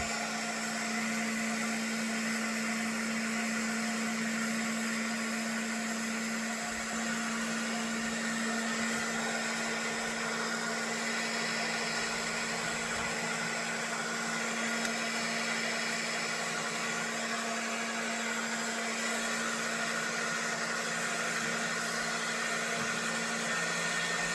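A heat gun blows hot air onto shrink wrap over a vintage camp knife, giving a steady, loud whirring drone with a constant hum that runs unbroken throughout.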